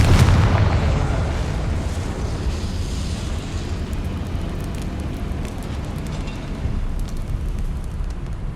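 In a video game wizarding battle, a blasting spell explosion hits with a loud deep boom at the start, then a rumbling, crackling tail and scattered debris clicks fade under steady game noise.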